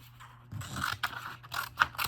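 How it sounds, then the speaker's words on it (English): Several short, crisp snips and scrapes of scissors cutting through stiff laminated paper, close and fairly quiet, with small pauses between cuts. "So I'm just gonna cut this off."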